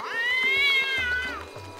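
A cat character in the video game GTA V lets out one drawn-out, rising-then-falling meow, close and clear with no talk over it.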